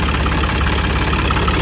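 A John Deere 5405 turbo engine on a wheat-cutting harvester runs close by with a loud, continuous throbbing rumble and a pulsing knock-like idle rhythm.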